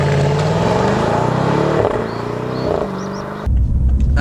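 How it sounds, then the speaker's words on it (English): A BMW M550i xDrive sport sedan's steady, moderate exhaust rumble with low harmonics, rising slightly, then a deeper burst of low rumble near the end. "not a loud rumble, but more like a sport limousine rumble"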